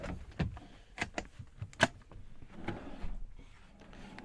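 Large storage drawers in a new 2026 Bailey Autograph 79-4T automatic motorhome slide and knock shut, making several sharp clunks and sliding rattles close by in a quiet interior.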